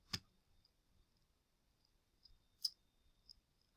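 A computer mouse clicking during a crypto bridge testnet tutorial, two crisp isolated clicks a couple of seconds apart with a faint tick later, close and quiet against near silence.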